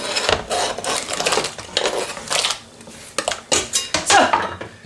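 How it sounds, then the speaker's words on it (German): Hand-diced potatoes tipped into a cooking pot in a home kitchen, a series of close clattering knocks and scrapes of metal cookware and utensils coming in irregular bursts, with no talk. "Ich mache das jetzt per Hand in kleine Würfel und dann gleich in den Topf rein."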